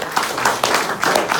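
A comedy club audience claps as a stand-up comic is called to the stage, a brief steady patter of many hands at moderate volume.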